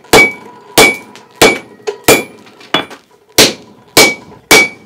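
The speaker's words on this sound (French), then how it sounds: "Et là, le marteau, il part." A heavy forging hammer pounds hot metal in eight loud, ringing blows at a steady pace, each strike close and sharp with a short metallic decay, and no voices.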